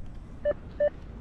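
Two short electronic beeps from a metal detector searching in coin mode at a construction site, spaced about a third of a second apart, clear above a low background hiss.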